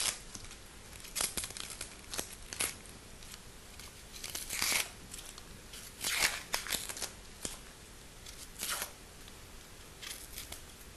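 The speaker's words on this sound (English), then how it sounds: "we'll start by peeling the onions" Papery onion skins are peeled by hand in a kitchen, giving faint dry crackles and tearing rustles in irregular bursts, close but quiet, with no talk.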